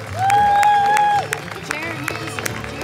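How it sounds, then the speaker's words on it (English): An audience applauds guitarist Jared Hensley at a live bluegrass-style show, a short burst of clapping and cheering that fades quickly while someone talks over it. "Big round of applause over here for Mr."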